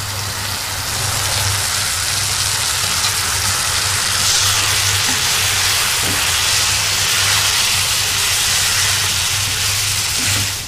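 Garam masala, cumin, turmeric and chili powders frying in a pan for a mushroom curry, a loud, continuous hissing sizzle with a steady low hum underneath, no voices.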